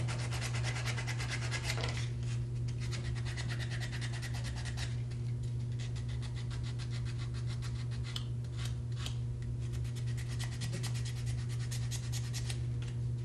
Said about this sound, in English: so there's not a whole lot to sand through.